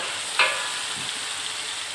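Shallots frying in oil for shredded beef rendang, a soft steady sizzle with a brief stirring scrape near the start and no voices.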